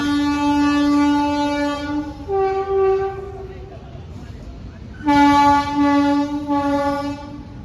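A diesel train sounds its horn loudly and close by as it passes a level crossing. It gives long, sustained multi-tone blasts with a brief pause and a change in pitch between them, then a final long blast.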